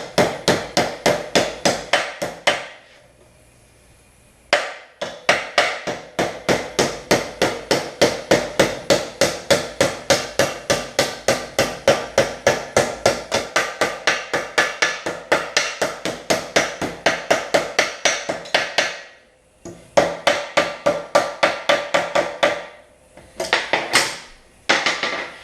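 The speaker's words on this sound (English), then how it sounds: "I'm going to hammer over onto the yardstick." Sheet metal flange for a door bottom hammered over a yardstick with basic tools: rapid, close metallic blows in long even runs, broken by a few short pauses before the tapping resumes.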